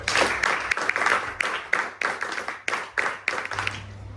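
Audience applause at an NCC felicitation ceremony honouring an IRS officer, a steady burst of many hands clapping close and loud, with sharp irregular claps over the crowd's continuous patter for about four seconds.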